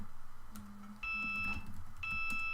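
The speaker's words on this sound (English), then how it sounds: "Sorry about that beeping there." A high electronic beep repeats twice, each tone lasting about half a second, over quiet room background.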